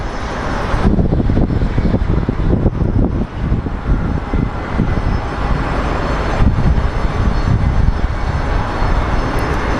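A Southwest airliner taxiing at Phoenix Sky Harbor Airport sends out a loud, continuous engine roar that stays strong for the whole stretch, with no voices over it.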